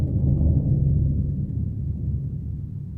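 A bass drum roll in a symphony percussion setting rumbles low and continuous like thunder, a dense booming roar that slowly fades slightly over its few seconds, with no talking.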